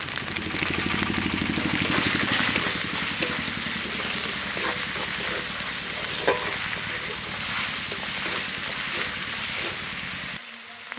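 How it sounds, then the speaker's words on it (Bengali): Green chilli and ginger paste frying and being stirred in a pan at home, a loud continuous sizzle with repeated scraping strokes of the spoon, close up and without talk. "ভালো করে নেড়ে নেব যাতে আদা কাঁচা গন্ধটা কেটে যায়"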